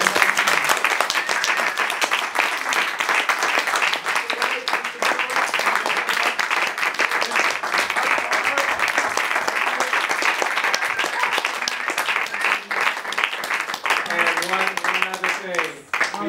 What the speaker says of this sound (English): Well, let's have a round of applause.